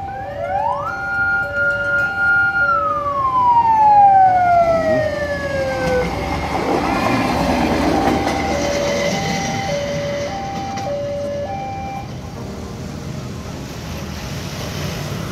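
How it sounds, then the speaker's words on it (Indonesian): A four-wheeled Tata motor rail lorry on a railway track sounds a siren-like horn with sliding, falling tones, then keeps running with a steady rumble and further short horn notes. "Tata motor lori."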